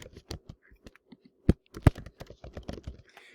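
Fingers type on a computer keyboard, producing a quick irregular run of close, crisp key clicks with a few heavier taps mixed in.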